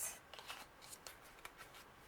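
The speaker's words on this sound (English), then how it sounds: "I do pre-shuffle the cards." Tarot cards shuffled close by in a quick series of crisp papery riffles and flicks, quiet and intimate, with no talking.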